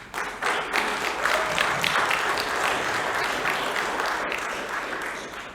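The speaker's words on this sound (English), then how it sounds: "So let's give them applause." Audience applause at a school board meeting, a dense wash of clapping that starts quickly, holds steady for several seconds, then thins and fades toward the end.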